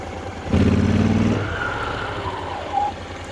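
A Honda NC750 motorcycle with a DCT automatic gearbox accelerates in a loud, close burst of engine roar lasting about a second. It then settles into a steadier, quieter running tone with a brief rising note near the end.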